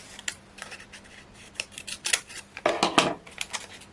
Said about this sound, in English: if I grab my scissors